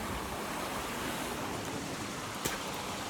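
Floodwater from an overrun backyard spilling into a creek near a footbridge, a steady broadband rush that stays loud and constant throughout, with one brief splash near the end.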